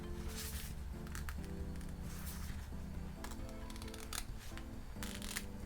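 Scissors cutting mirror chrome vinyl crafted for a strawberry-themed Libby glass, a run of soft close snips and rustles with a faint hum beneath, no talk.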